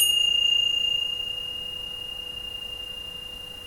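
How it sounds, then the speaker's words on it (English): A small bell is struck once to begin chanting and musical meditation, its clear ringing tone sustaining and slowly fading over several seconds, close and alone. "with a lovely little bell"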